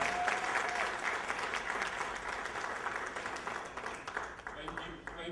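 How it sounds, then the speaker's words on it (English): Sustained applause from an event audience greeting the MC, a dense steady clatter of many hands throughout, with a faint voice under it. "Let's give our MC another round of applause"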